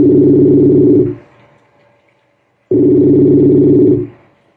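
A telephone ringing in two loud, evenly spaced electronic rings of about a second each, separated by a pause of silence, clear and close.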